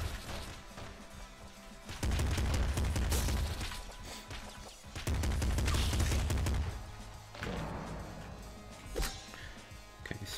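Weapons firing in the top-down shooter Nuclear Throne come in loud, punchy bursts, two heavy stretches of rapid shots with a softer, sparser tail and a few isolated cracks near the end.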